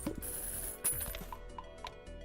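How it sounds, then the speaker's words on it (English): Coins cashing in during the video game Balatro: a quick run of soft metallic clinks and mechanical ticks over a faint steady game background, fairly quiet and with no speech. "That is the sound"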